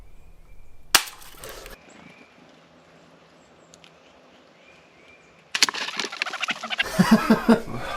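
Pistol crossbow shot at a squirrel during a hunt, a sharp close snap followed by a rustle, then quiet outdoor ambience before louder handling and scuffling noise at the end.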